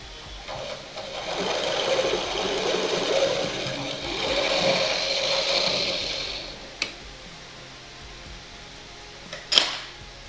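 Sewing machine stitching a dart-cut blouse, a soft whirring run of stitches that rises and falls over several seconds, followed by two sharp isolated clicks near the end.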